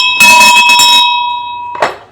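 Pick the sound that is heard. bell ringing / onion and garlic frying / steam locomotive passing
bell ringing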